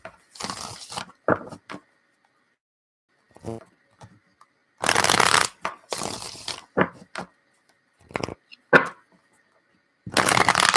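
Tarot deck being shuffled by hand in several separate bursts of crisp riffling and flapping, close and loud, with quiet pauses in between.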